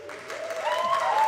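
Applause from an audience at a live music event, a short burst of clapping that swells toward the end, heard alone without talk.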